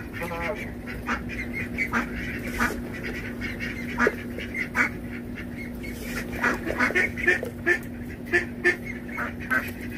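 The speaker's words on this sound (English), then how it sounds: "Quack, quack." Ducks quack repeatedly in an outdoor setting, with nasal calls overlapping at close range over a steady background hum.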